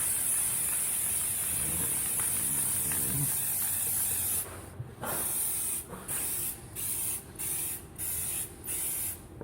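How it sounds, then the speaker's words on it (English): An aerosol can sprays clear coat as a sealing layer in a continuous hiss, then in six short bursts separated by brief pauses, close and fairly loud. "just give it a little coat of clear coat, and that'll just seal it all in place"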